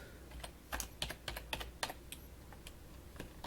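Typing on a computer keyboard, close and clear: a brisk, irregular run of sharp clicking keystrokes with short pauses between bursts.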